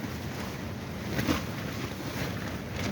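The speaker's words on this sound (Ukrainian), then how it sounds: "Сьогодні такий вітер у нас дуже сильний все зриває." Strong wind gusts through an outdoor strawberry garden, a steady, rough rumble of buffeting across the microphone with a slight swell near the middle and no speech.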